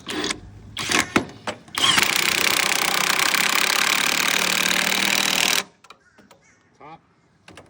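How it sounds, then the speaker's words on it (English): A few knocks and brief noises give way to a hammer drill roaring loudly and steadily for several seconds while installing a boat lift lock, then stopping, followed by quiet rustling. "Using a hammer drill."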